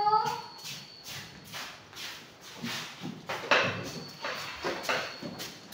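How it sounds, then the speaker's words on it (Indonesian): Schoolchildren in a fifth-grade science class clap for a group that has just presented, a brief run of separate uneven claps, fairly quiet, with a voice nearby. "Yuk, tepuk tangan dulu."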